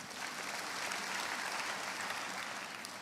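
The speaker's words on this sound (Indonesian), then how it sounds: "Tepuk tangan untuk Tuhan." Church congregation applauding during a sermon, a soft, distant, continuous patter of many hands clapping at once, steady in level from start to finish with no voices standing out.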